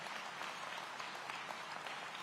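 A faint round of applause for the Aurora City Council at a public safety event, many hands clapping steadily and evenly over a short stretch, quiet and distant.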